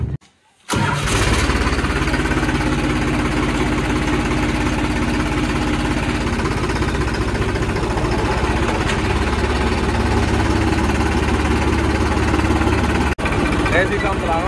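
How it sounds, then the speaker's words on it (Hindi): A tractor engine cranks and catches after a brief silence, then runs loudly at a steady, rumbling idle close by, cutting out briefly near the end, on a farm during potato season. "ट्रैक्टर को ले चलते स्टार्ट करता हूँ अब"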